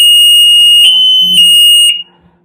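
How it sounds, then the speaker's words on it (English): A capacitance liquid sensor alarm goes off, sensing liquid through skin and plastic: a loud, steady high-pitched electronic tone with a few short chirps, sounding alone and then cutting off abruptly. "it's going to sense through my skin, through the plastic, and then it's just going to go into alarm"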